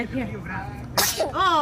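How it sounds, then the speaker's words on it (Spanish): A single sharp sneeze bursts out in the middle of ongoing conversation between people, brief and close, with voices talking before and right after it. "bless you."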